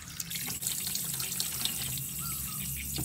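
Eggs for salted eggs washed under running tap water, a steady close splashing flow with small trickles and drips throughout.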